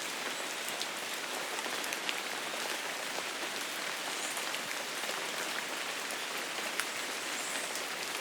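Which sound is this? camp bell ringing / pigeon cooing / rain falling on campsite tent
rain falling on campsite tent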